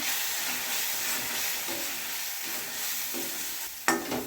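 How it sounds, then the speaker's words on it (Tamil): Chili powder and spice powder are stirred into hot frying oil for a mint and coriander thokku, giving a steady close sizzle with scraping spoon strokes and a sharper clatter near the end. "சேர்த்துட்டு எல்லாத்தையும் நல்லா ஒன்றா கிளறிட்டுருவோம்."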